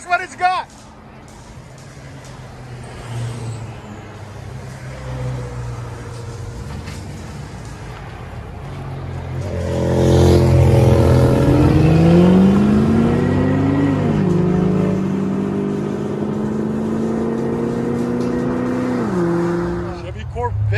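A 1986 Chevy Corvette 5.7L V8 with Corsa cat-back and Flowmaster Super 10 exhausts idles with a deep burble, then revs up loudly and holds a strong, rising roar before easing off.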